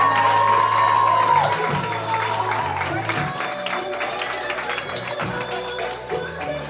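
A crowd at a quinceañera celebration breaks into applause and cheering, with clapping, scattered shouts and whoops over music playing in the hall, lively and sustained.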